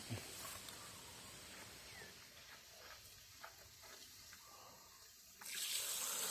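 A water tap runs to refill a jar used for raising catfish, giving a steady, faint hiss and trickle with a louder gush near the end.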